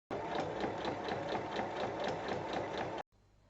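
A sewing machine stitches the seams of a small fabric pouch together in one steady, fast, rhythmic whir lasting about three seconds, close and loud, then stops abruptly.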